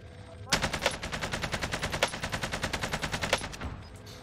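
Automatic gunfire in the video game Warzone Rebirth Island: a loud, close, continuous stream of rapid, evenly spaced shots lasting several seconds with no pauses.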